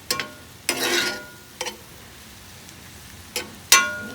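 Mushrooms and onions stirred in a pan on a Weber Spirit gas grill: several separate scraping strokes with pauses between them, close and fairly loud, no voices.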